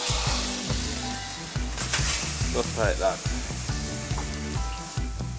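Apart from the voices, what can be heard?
burger frying in pan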